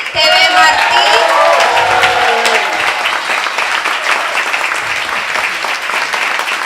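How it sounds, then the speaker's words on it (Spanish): Loud applause and cheering from a crowd at a Cuban community event in Miami, dense sustained clapping with whoops, a voice speaking over it at the start. "Un aplauso fuerte para TV Martí."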